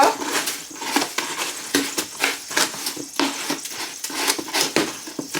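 Sugar scooped with a measuring cup makes repeated scraping and gritty crunching strokes at an irregular rhythm, close and fairly loud, with no talking.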